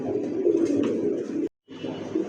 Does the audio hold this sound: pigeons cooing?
yes